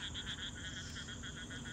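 A frog croaks near a farmhouse around Nashik in a rapid, pulsing trill of evenly spaced calls, steady and fairly close against quiet background hiss.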